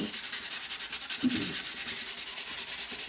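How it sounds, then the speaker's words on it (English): Hand sanding of furniture with 120 grit sandpaper, a close, steady rhythmic scratching rub repeating in quick even strokes with no talking. "So this is just a little bit different hand sanding"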